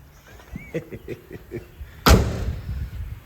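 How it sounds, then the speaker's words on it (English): A single heavy door of a 1985 Oldsmobile Cutlass slams shut with a sharp bang, preceded by a few quieter knocks and rattles and followed by a brief ringing decay. "Door slammer."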